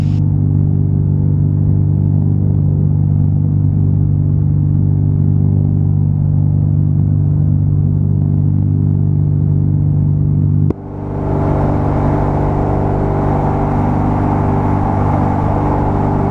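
A small airplane engine holds a steady, loud droning hum at high RPM during takeoff climb-out, heard from inside the cockpit, with a brief dip and a shift to broader rushing noise partway through.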